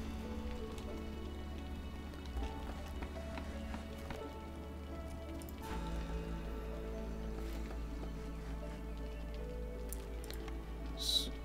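Steady rain pattering in the village-building game Against the Storm, a continuous even wash across the whole stretch with soft musical tones playing underneath.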